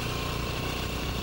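A motorcycle engine running steadily at a constant, moderate hum during a running race event, close and unbroken with no talking.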